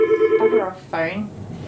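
A telephone rings briefly in a room where dogs are being groomed, a short repeated electronic tone, fairly close, followed by a person speaking.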